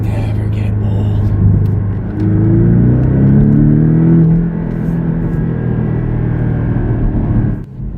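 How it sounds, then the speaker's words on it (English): A Porsche Cayman S engine, manual gearbox, drops through a downshift with a rev blip, a steady loud rumble rising and falling in pitch inside the car, with a voice speaking over it. "oh, the downshifts just never get old"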